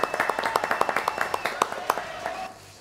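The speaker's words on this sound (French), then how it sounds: "applaudissements à tous les quatre" Studio audience on a French TV talk show clapping for four guests, a steady run of sharp claps at a fairly even rhythm that stops abruptly near the end.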